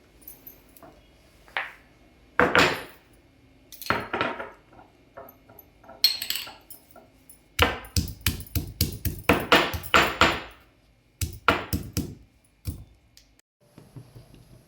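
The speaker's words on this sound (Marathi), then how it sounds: "आता आपण आलं आणि लसूण ठेचून घेऊया" Ginger and garlic are pounded for a mixed dal vegetable dish, with sharp knocking thuds in irregular bursts, sometimes quick runs of strikes, close and crisp with quiet gaps between.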